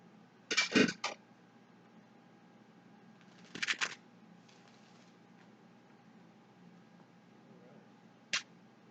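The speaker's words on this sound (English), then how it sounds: "let's go ahead and shuffle these cards some more" Tarot deck being shuffled by hand, heard as three short crisp bursts of riffling cards separated by quiet pauses, fairly close and with no talking.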